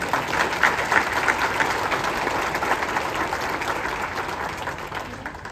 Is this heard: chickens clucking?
no